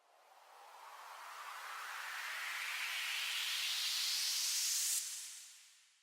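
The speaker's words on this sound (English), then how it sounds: "And then I have this up sweep," An up sweep transition effect builds as a long rising noise wash over about five seconds, panning from left to right, then drops away in a short fade, heard alone.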